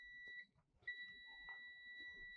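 Multimeter continuity buzzer testing an e-rickshaw charger, giving a steady high electronic tone that cuts off briefly and then resumes and holds, with faint handling noise beneath.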